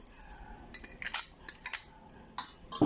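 Soaked chana dal is tipped into rice flour in a bowl, with scattered light clinks and taps of a spoon against the dish and soft shuffling between them.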